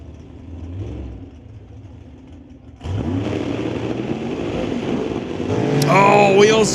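Drag race cars launch side by side, a 1997 Pontiac Firebird against a rival car, with engines roaring up suddenly and building into a loud rising rev, an announcer talking over the noise.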